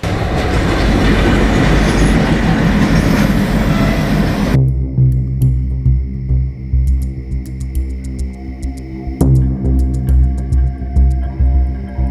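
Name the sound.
train at railway station platform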